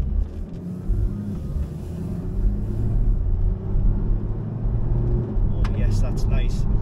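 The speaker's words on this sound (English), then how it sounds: "as soon as you put your foot on the accelerator, you can notice it kicking into action straight away" A Porsche fitted with a plug-in performance chip accelerates in sport mode, its deep engine rumble rising steadily under an occupant's talk, heard from inside the car.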